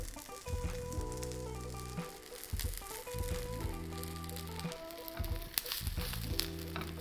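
A veggie burger patty of bulgur wheat and chickpeas browns in a preheated pan on medium heat, giving a soft steady sizzle under light background music.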